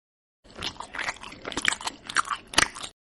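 Crunchy bites and chewing of fried chicken in a mukbang setting, a series of close, crisp crunches spread irregularly over about two and a half seconds with no talking.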